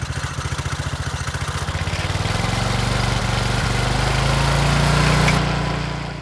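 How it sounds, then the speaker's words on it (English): A gas-powered auger drills fence post holes for an aluminum fence installation, its small engine chugging steadily and close, rising into a louder sustained drone before easing off at the end; no talking. "Now comes the hard work, drilling all the post holes with this gas-powered auger."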